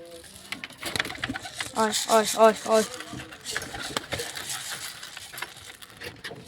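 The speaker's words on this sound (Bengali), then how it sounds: "এই পায়রাটা এই গেটের এখানে আসছে আর বারবার চলে যাচ্ছে" Pigeons coo near a gate by their newly built pigeon house, a short series of soft throaty coos in the middle, with people talking around them.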